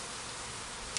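Honey bees at a hive just after frames were moved from a nuc into a 10-frame hive body, giving a steady, soft, continuous buzz with no talk.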